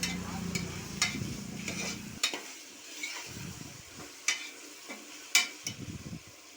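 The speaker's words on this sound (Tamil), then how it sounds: "வெங்காயம் தக்காளி நல்லா வதங்கினதுக்கப்புறம் இஞ்சி பூண்டு பேஸ்ட்டு அதில் சேர்த்துடணும் சேர்த்து நல்லா கிண்டி விட்டுக்கணும்" Onion, tomato and ginger garlic paste frying in a pan for vegetable biryani, stirred with scattered scraping clicks over a steady low sizzle, close by and with no talk.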